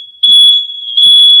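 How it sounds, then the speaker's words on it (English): An indoor fire alarm goes off with a loud, piercing electronic tone that holds almost without a break, close to the microphone, with brief low thumps of background movement. "That's the fire alarm."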